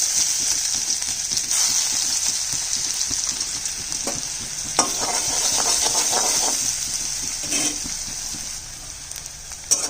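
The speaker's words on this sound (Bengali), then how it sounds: "পেঁয়াজটা একটু লাল করে ভাজবো" Chopped onion frying in hot oil with panch phoron and a pinch of salt over lowered gas, a loud continuous crackling sizzle with bursts of stirring and spatula scrapes throughout.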